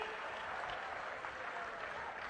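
Audience applause at a public face-to-face meeting on rural local bodies and panchayat raj issues, a steady wash of many hands clapping at even loudness throughout, fairly distant and diffuse, with no break.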